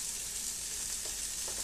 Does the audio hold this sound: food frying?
yes